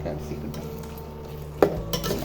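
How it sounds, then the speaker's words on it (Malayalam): Chicken manchurian is stirred in a pan with a utensil, giving low scraping and clinking against the metal, with one sharper clatter near the end. "ഇതൊന്ന് ഇളക്കി നല്ലോണം ഇളക്കി ഒന്ന് കൊടുക്കുക."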